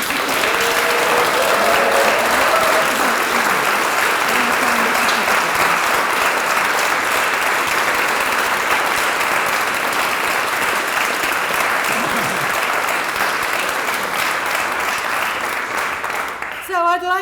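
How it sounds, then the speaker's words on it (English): Wedding guests at a marriage ceremony break into sustained, loud applause that fills the room evenly for well over a quarter minute, with faint voices mixed in early and the clapping thinning out abruptly at the very end. "Huge applause, it says here."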